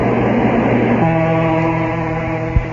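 Train sound effect from a CBS Radio Mystery Theater drama: a loud, continuous rumbling drone with steady tonal whistle-like bands that change pitch partway through, ending with a short low thump, no talking.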